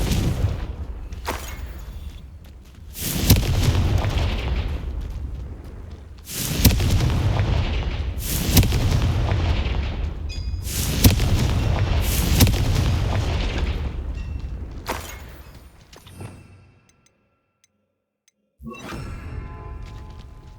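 Confringo fire spells from the Hogwarts Legacy video game blast repeatedly, each a heavy booming explosion with a long rumbling tail, several in a row before a brief quiet and one more blast.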